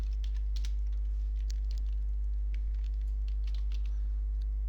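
Computer keyboard keys click in short irregular bursts of typing, fairly faint over a strong steady mains hum, with no talking.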